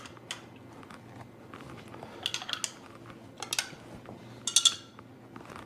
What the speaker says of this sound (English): we'll kind of stir these up real quick so you can get a better look